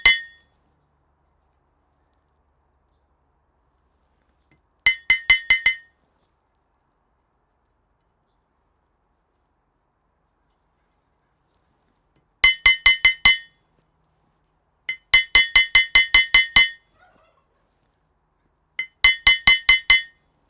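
A hammer strikes metal on an anvil in a smithy, ringing out in sharp, bright bursts of several rapid blows, separated by silent pauses, close and loud.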